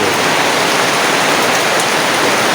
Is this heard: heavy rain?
yes